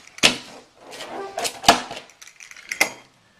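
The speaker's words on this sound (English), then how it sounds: "we're going to slice through 1, 2, we got 4 slices, and then we're going to cut those slices in half" Pizza with a crispy bottom being sliced: a few sharp cutting clacks against the board in an uneven rhythm, close and fairly loud, with no talk.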